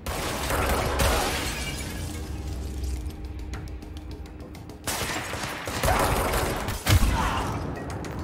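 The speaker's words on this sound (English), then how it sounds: "Can I shoot through glass?" In the video game Control, gunshots crack and glass shatters in a couple of sharp bursts, loud and close, with debris tinkling between them and no voice over the action.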